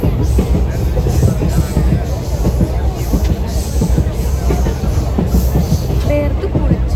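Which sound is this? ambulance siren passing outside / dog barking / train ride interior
train ride interior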